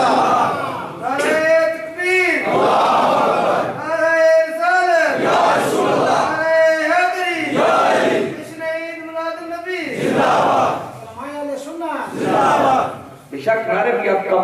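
A crowd at a religious Milad gathering chanting slogans in unison, loud repeated call-and-response waves of many voices with short pauses between chants.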